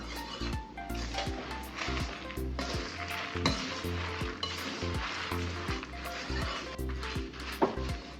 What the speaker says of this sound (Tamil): இப்போது பருப்பெல்லாம் நல்லா வறுபட்டுருச்சு